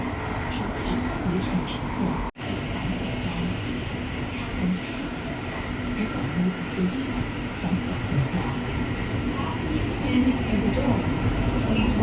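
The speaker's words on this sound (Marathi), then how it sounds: "160ची स्पीडने मेट्रो इथून जात आहे." A Chinese metro train runs at speed, producing a steady, loud rumble and rushing roar from inside the carriage, with talk over it and one brief dropout early on.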